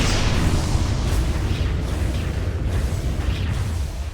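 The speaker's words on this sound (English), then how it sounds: "Goes down those explosions." Explosions in a professional Dota 2 match, a dense continuous rumble of booms and bursts with layered whooshes, loud and sustained throughout with no clear speech on top.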